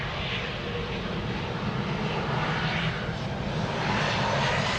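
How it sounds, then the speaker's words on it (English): A German Airways Embraer 190 jet airliner at Amsterdam Schiphol Airport, its engines giving a steady, loud, broadband roar that holds evenly throughout with no voices. "Over here, German Airways, Embraer 190."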